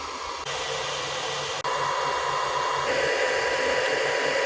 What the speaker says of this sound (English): The only issue I'm trying to solve is the loud fan